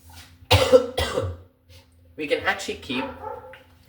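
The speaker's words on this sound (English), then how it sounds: "my dog is very loud" A pet dog barks loudly indoors, close by: two sharp barks, then a short pause, then a longer run of barking and yips.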